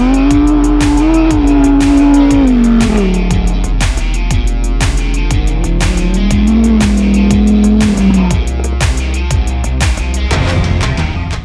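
Lamborghini Huracan Sterrato, an off-road rally version of the Huracan, driving hard. Its engine note is loud and close, rising and falling through the revs with sharp gearshift breaks, and no voices are heard.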